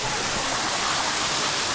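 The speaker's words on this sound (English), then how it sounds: "We got some fresh flowing water." Fresh water pours steadily down a waterfall beside wet climbing rocks at a Thai waterpark, a dense, constant close-up roar with no break and no voices over it.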